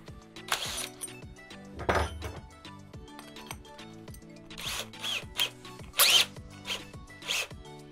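A Bosch Professional GSB 18V-21 cordless drill bores with an 18 mm bit in short, repeated bursts, each whir rising and stopping close by, with no talk over it.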